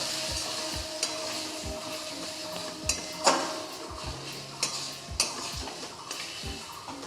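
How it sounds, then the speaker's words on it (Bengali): A spoon stirring turmeric, Kashmiri chilli powder and other spices in a hot pan for a mutton fat and potato curry, with repeated scraping knocks against the metal and a soft sizzle underneath, fairly close. "সব মশলাগুলো এবার আমি মিশিয়ে নেব।"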